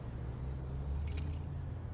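A bunch of keys jangles briefly in a quick metallic rattle, close and clear over a low rumbling car-like drone.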